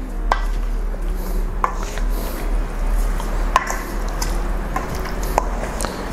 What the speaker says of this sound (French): Ok, je mélange le tout.